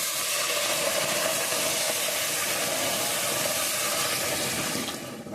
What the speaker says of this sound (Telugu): ఇందులో కొద్దిగా వాటర్ వేసేసుకుని